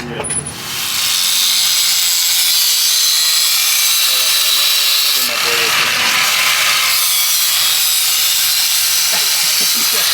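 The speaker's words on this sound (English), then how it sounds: "So you're gonna cut the edge of the wrench?" Power cutting tool grinding through the edge of a metal wrench in a garage: a loud, continuous harsh hiss and rasp running nearly the whole time, with people talking underneath.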